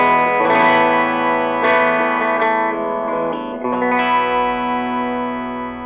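Electric guitar on its bridge pickup through a small beginner amp, chords strummed with a bright, slightly distorted tone; several loud strums ring out and sustain alone.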